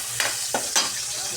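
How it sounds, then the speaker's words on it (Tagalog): Garlic sautés in a hot pan with a soft, continuous sizzle, broken by a few quick scraping stirs of the spatula. "Magigisa tayo mga kasipag ng bawang."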